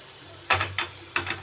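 Rice flour snack frying in hot oil gives three short bursts of crackling sizzle over a low, steady hum, each flaring up and quickly fading.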